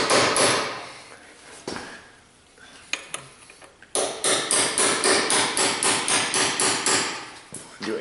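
A hammer strikes metal while driving a seal and bearing retainer out of the axle housing of a Dodge Ram. A few scattered blows come first, then a fast, steady run of sharp, ringing hits, loud and close.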